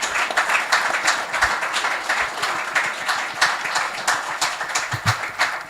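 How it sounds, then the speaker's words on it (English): An audience applauds panelists at the close of an economic roundtable, a dense, steady patter of many hands clapping close by for several seconds. "Please give them a round of applause."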